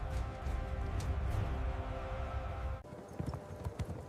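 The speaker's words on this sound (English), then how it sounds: "The ground literally trembled beneath the synchronized gallop of thousands of armored horses" Massed armored cavalry of a Lydian army thundering in a synchronized gallop: dense, heavy rumbling hoofbeats and clip-clop that hold steady and loud, then break off abruptly into sparser, separate hoof strikes near the end.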